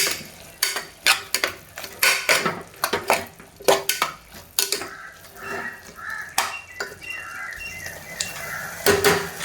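A spoon stirs and scrapes food in a metal pot during home cooking, with repeated clanks and scrapes in an irregular rhythm over a faint sizzle, close and fairly loud.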